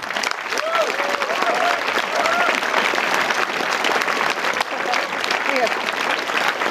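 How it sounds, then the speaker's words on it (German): Lively audience applause for a speaker at a German science slam, sustained loud clapping with scattered cheers and whoops rising above it, and a voice briefly talking over the crowd. "Reinhard, dein Applaus."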